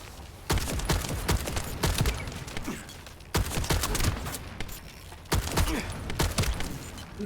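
Gunfire in the sci-fi shooter The First Descendant crackles in repeated loud bursts with short gaps between them, sharp close volleys over a constant background din.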